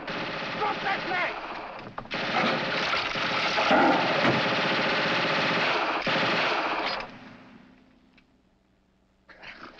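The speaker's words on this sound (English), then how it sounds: "Why didn't you shut that gun off?" Machine gun firing in a wartime comedy scene: a continuous, loud rattling burst of rapid shots lasting about five seconds, then cutting off into quiet with a faint murmur after.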